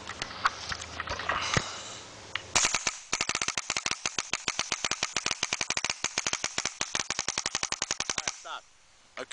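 A G3 paintball marker in a speedball setup fires a long rapid string of shots, dozens of sharp pops in quick even rhythm, close and loud after a few seconds of handling noise.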